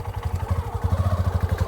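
A motorcycle engine runs close by with a steady, low, rapid putter, briefly audible on its own.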